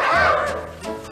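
A male singer imitates a dog with a drawn-out, howling bark on a 1959 country comedy album, a single loud vocal yelp that tapers off.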